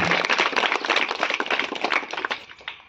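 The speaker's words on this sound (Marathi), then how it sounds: "सर्व टाळ्या वाजवा" Audience at a Diwali school event clapping for a pupil, a dense, lively burst of many hands applauding close by that tapers off toward the end.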